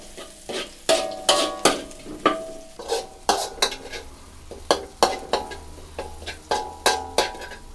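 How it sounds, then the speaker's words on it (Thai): Shallots stir-fry with garlic in a pan for shrimp pad thai. Quick, near scrapes and clinks of a spatula on the pan repeat in an uneven rhythm over a soft sizzle, with no talk. "ใส่หอมแดงลงไปประมาณ1ช้อนโต๊ะครับ ผัดให้หอมเลยนะครับ"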